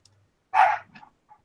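A single sharp dog bark, close and fairly loud, followed by a couple of faint softer yips in an otherwise quiet room.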